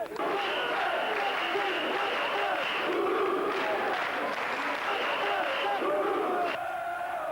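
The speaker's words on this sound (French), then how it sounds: "Le trophée tient toujours debout et se prépare à son premier bain de foule" A large crowd of rugby supporters cheers, shouts and applauds the European Cup trophy's arrival after the 1995 final between Cardiff and Toulouse, a dense continuous roar of voices and clapping, loud and sustained throughout.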